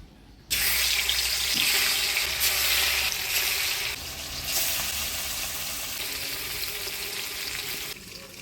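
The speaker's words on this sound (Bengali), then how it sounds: "তেল গরম হয়ে গেছে, এবার মাছগুলো দিয়ে দেব।" Pieces of katla fish go into hot oil and burst into a loud, sudden sizzle, then settle into a steady, crackling fry heard up close for several seconds.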